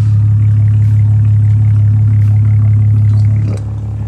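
A car exhaust with its valve flap open idles with a loud, steady low rumble close by, then dips slightly near the end.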